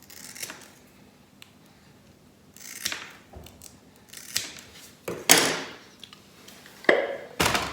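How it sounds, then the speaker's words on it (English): Scissors snipping through a small strip of material, cut into four pieces while wiring a guitar pedalboard; several sharp, close cuts and handling rustles, with no talking. "so we'll just cut this into 4."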